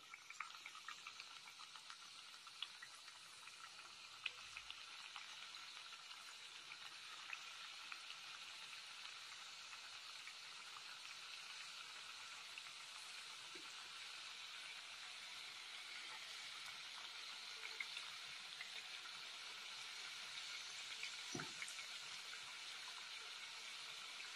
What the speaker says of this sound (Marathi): आपलं तेल तापलंय. आता आपण त्याच्यात चकल्या टाकायच्या.